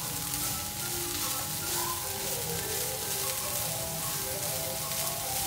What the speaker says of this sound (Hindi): अब मैं इसमें कैप्सिकम डाल के इसको भी ज़रा फ्राई कर लेती हूँ।